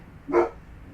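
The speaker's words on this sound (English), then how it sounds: "What's he barking at?" A dog gives a single short bark at moderate distance, then quiet, outdoors near an American crocodile.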